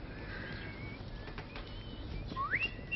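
A man in a 1965 French film whistles a short rising tune outdoors among other faint background sounds, with no talk heard.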